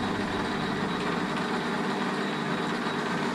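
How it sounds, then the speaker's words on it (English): A lathe turning a bush for a worn Fordson Major E1A tractor, a steady continuous machining hum and whir with a broadband hiss, close and constant throughout with no talking. "I'll get on the lathe"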